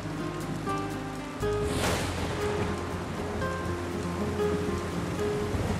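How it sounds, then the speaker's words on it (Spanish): Rain falls in a steady patter that swells into a heavier, fuller wash partway through and keeps going, with no voices over it. "Mira cómo llueve."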